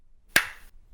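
A single sharp hand clap rings out close and alone, with a brief trailing echo fading over a fraction of a second.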